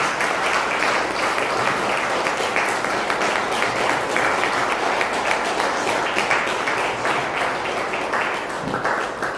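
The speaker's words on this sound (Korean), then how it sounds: "큰 박수로 환영해 주시기 바랍니다" A church congregation claps to welcome a missionary, a continuous, full round of applause lasting about nine seconds, even and close throughout.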